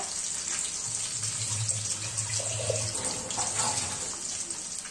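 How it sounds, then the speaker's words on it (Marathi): Moong dal being rinsed under running tap water, a steady moderate stream of splashing water with faint swishing in the background. "ही डाळ जी आहे ना स्वच्छ धुवून घ्यायची तोपर्यंत"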